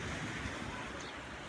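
Sea waves wash continuously onto the shore below a terrace in Zanzibar, a broad steady surf roar mixed with wind buffeting the microphone, with no voices.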